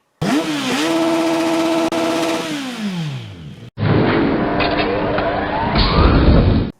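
Vintage 1974 Honda CB360 motorcycle engine running, loud and close: a steady drone that revs up, holds, then winds down, followed by a rougher burst of running with rising revs.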